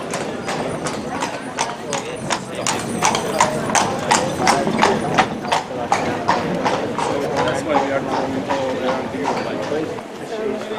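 Horses' hooves clip-clop on the streets of Bruges in a steady, close rhythmic trot of sharp clacks, with people talking underneath.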